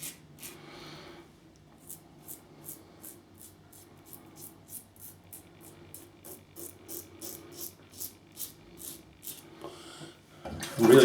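A safety razor passes over lathered skin during a wet shave, giving a steady series of short, crisp rasping strokes close up, evenly spaced through the clip and ending in a louder burst.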